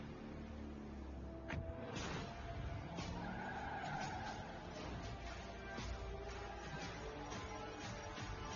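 A GWM car in a real-world road test, with tires squealing and skidding over a steady rumble of engine and road noise, the screech rising and falling in repeated bursts.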